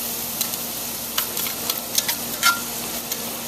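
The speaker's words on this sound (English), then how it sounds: "We're going to stir that around." Tomato and garlic sofrito sizzles steadily in a paella pan as it is stirred, a constant close hiss of frying with soft scraping clicks of the utensil against the pan scattered throughout, no voices.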